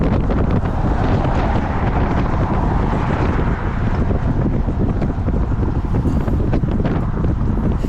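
Strong wind buffets the microphone of a cyclist riding on an overcast day, in a steady, loud roar with gusty rumbling throughout, no voices.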